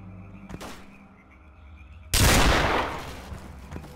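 Gunfire from STALKER: Call of Pripyat, a sharp loud burst of shots erupting partway through after a quieter stretch with a softer earlier report, then ringing off into the game's ambience.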